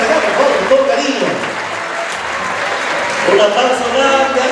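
Audience applause at a live Artilleros del Sur show, steady clapping filling the room for several seconds, rising again toward the end, with a voice talking over it.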